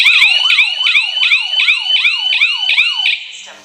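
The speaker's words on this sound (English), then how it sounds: "now I'm going to set off just like any other alarm that I would set off." A Staniot home security system alarm siren blares loud and close, a rapid rising-and-falling electronic wail repeating about every third of a second for three seconds before cutting off.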